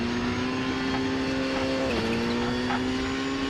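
Rally car engine from the World Rally Championship PS2 game on the Pro Rally Sanremo stage, a steady loud drone at sustained revs with a brief pitch dip around the middle, running continuously with no talk.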